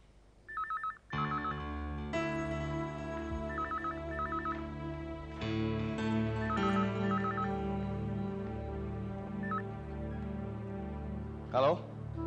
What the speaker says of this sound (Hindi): फोन उठा लो। तुम नहीं उठा सकती क्या? ये जरूर तुम्हारी दुल्हन का फोन है।